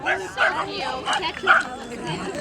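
Dachshunds at a Wienerfest dog costume event yip and bark in short, sharp bursts amid crowd chatter and an announcer's voice.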